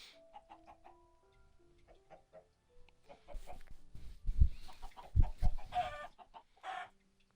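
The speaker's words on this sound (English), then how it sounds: "the chickens are killing each other now." Chickens in the Minecraft video game cluck in short scattered calls, soft at first and then louder, with some thumping hits mixed in, and no talk.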